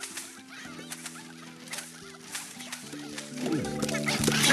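Chickens clucking in the Plants vs. Zombies video game, rapid overlapping clucks and squawks over layered game music that grows louder toward the end.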